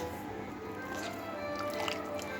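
Soaked soybeans are squeezed by hand to press out water into a bowl, a short wet squish with soft dripping trickles, close and quiet.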